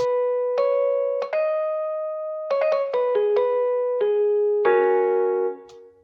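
A synth melody line from an FL Studio beat, played with reverb and the low end trimmed, so each sustained note rings into the next, loud and alone.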